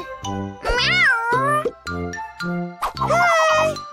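Cartoon kitten meowing in a children's animated show, several high, bending cries in a row, loud and close, with tinkly jingles and other cartoon voices mixed in.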